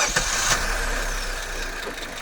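Maruti Grand Vitara 1.5 litre petrol engine idling, a steady, smooth, refined hum with a faint injector ticking and no voices.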